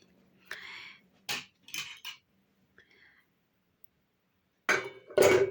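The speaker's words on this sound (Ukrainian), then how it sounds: "Для цього ставлю каструльку на вогонь." Metal pots clank and clatter in a few sharp knocks as a saucepan is set on the stove, with scraping and a louder bang at the end, close by in a quiet kitchen.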